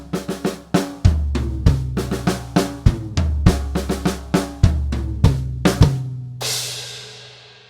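A drum kit plays a loud forte passage from a Grade 3 piece, with steady, evenly spaced hits and sustained low booms, ending in a cymbal wash that rings out alone.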